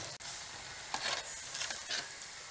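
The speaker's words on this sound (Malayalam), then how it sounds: "ഇനി നമുക്കതൊന്ന് ഇളക്കണം." Agra peda sweet mixture stirred in a pan, a quiet, soft sizzle with a few scraping strokes of the spoon, close and faint, with no talk.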